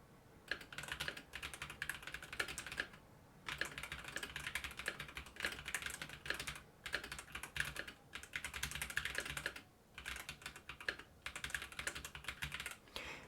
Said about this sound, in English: so let's just get into like a typing test